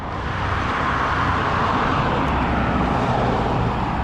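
A car drives past on a road, heard as a steady, loud broadband roar of tyres and engine that holds for about four seconds with no voices.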